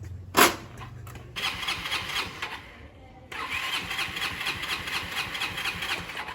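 A malfunctioning motorbike engine starts after a sharp bang and settles into a steady running rumble, dipping briefly before picking up again, close by.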